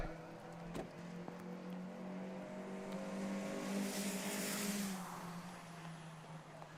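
A race car finishing a circuit race, its engine note rising and then falling as it passes at a distance, moderately faint under a steady background hum.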